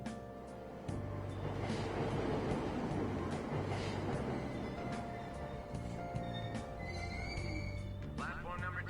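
A train rumbles steadily into a station in the video game Persona 5 Royal, a continuous rolling drone under a voice speaking over it.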